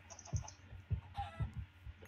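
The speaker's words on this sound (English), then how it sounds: "Dude, these chickens can't die." Chickens cluck in the video game Minecraft, a run of short, fairly soft clucks in an uneven rhythm with a faint higher tone early on.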